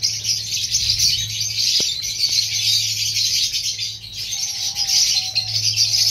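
A breeding colony of diamond doves fills the space with continuous soft, low cooing, layered with bright chirps and twittering from several birds close by.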